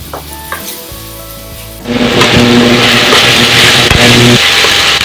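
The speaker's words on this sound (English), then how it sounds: "we are going to stir fry the paste until it is fragrant." A few light clinks and scrapes, then a loud burst of sizzling as curry paste hits a hot pan and is stir-fried, crackling steadily up close.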